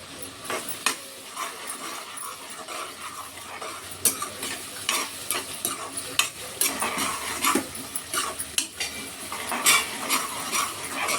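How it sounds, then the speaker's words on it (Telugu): Green chillies and curry leaves crackle and sizzle in hot oil while a spoon stirs and scrapes the pan, with frequent sharp clinks over a steady frying hiss, close up. "పచ్చిమిరపకాయలు కూడా వేస్తున్నాను. కరివేపాకు కూడా వేస్తున్నాను."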